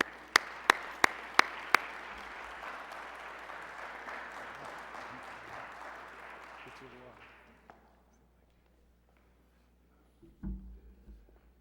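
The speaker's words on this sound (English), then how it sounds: "let's bring him on with a round of applause" A few sharp claps start a round of applause from an audience, which swells, then gradually dies away into near silence before a brief sound.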